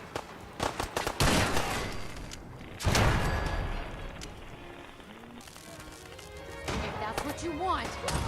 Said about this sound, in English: Who are you shooting?